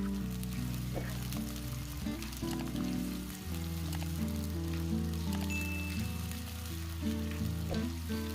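Sliced onions frying in hot oil until brown for a prawn biryani, a steady crackling sizzle that holds evenly throughout, close, over a low continuous hum, with no talking.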